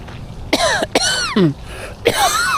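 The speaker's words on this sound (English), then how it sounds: "All this coughing and hacking, nose blowing." Several harsh, close coughs and a throat clear from a person out walking, loud bursts spaced unevenly over a few seconds with no talking.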